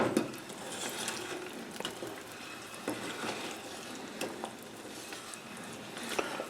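Melted butter for toffee begins to boil in a pan with soft, steady bubbling and sizzle, broken by occasional clicks and taps of a utensil against the pan.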